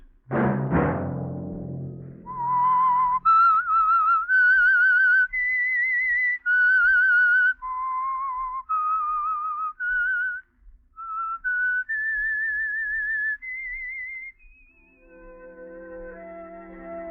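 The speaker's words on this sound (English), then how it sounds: "Let that whistle be your signal" A single person whistles a slow, clear melody of sustained notes, alone and close, ending as a soft orchestral chord fades in: the theme of the 1946 radio drama The Whistler.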